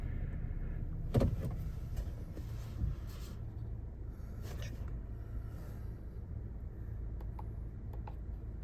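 A 2024 Honda CR-V EX-L pulls forward in drive: a low steady engine and road rumble throughout, with a couple of sharper thumps near the start and light mechanical clicks, close and moderately loud, no talk.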